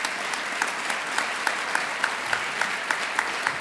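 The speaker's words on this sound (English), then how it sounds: "Can we give a round of applause to our team in the office?" An audience at a university address applauds, a broad sustained roar of clapping with a few sharper nearby claps punching through at a fairly regular pace.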